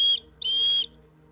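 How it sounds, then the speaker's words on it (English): A slide whistle plays two clear, steady high tones, a short note followed after a brief gap by a longer held note, close and fairly loud over a low background hum. "It's a slide whistle, ladies and gentlemen."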